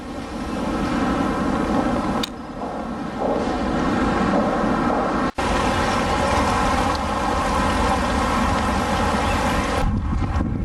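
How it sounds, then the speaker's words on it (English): Heavy rain pouring down on a residential street: a constant loud hiss and rush of rainfall with wind buffeting the microphone, close and unbroken, with a couple of sharp clicks and no talk. "It's pouring down with rain."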